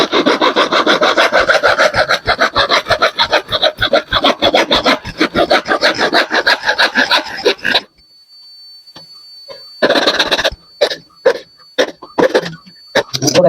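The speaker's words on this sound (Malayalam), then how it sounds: "അപ്പോൾ നമുക്ക് ഏതായാലും ബാക്കി കൂടി അങ്ങ് കട്ട് ചെയ്ത് വെക്കട്ടോ." Old PVC pipe being hand-sawn into pieces, fast rhythmic back-and-forth strokes close up and loud for about eight seconds, then a pause and several shorter bursts of sawing.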